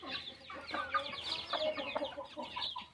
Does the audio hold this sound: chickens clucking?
yes